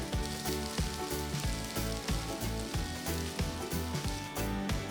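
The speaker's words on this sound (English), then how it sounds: "Once the pan is hot, add a handful of thinly sliced onions." Thinly sliced onions sizzle in hot oil in a pan over a medium flame, a steady crackling hiss that runs under rhythmic background music with a regular beat.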